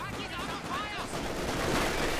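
Gunfire from the video game Company of Heroes 2 pours into a mortar emplacement, a dense steady rattle of shots running through the whole stretch beneath a busy mix of battle noise.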